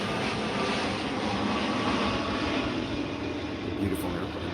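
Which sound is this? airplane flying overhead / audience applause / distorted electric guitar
airplane flying overhead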